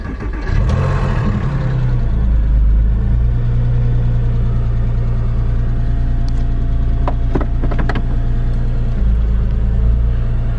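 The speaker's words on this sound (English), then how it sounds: "All right, we'll just let it warm up now." A car engine idles while warming up, a steady loud low rumble with slight fluctuations in revs and a few light knocks or clicks nearby.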